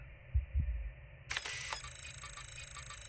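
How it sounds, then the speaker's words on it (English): A heartbeat in the space horror game Voyager-19 throbs twice in low, heavy thumps, then a click leads into a fast, even pulsing rhythm under an electronic hum. "It has a heartbeat."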